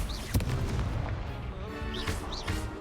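Confringo explosive spells blast in the Hogwarts Legacy video game, a few sharp booming bursts mixed with whooshing magical effects amid busy combat noise.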